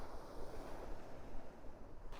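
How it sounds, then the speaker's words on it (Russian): Strong wind buffets the microphone over rough sea waves during a sea fishing competition in very harsh weather, a steady low roar with no voices. "Крайне тяжелые погодные условия, соревнования, конечно, тяжелые, сильный ветер, волны"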